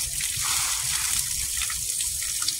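Tap water gushes steadily into a sink while pots and pans are washed in a countryside home, a loud, close, continuous splashing rush with no voices.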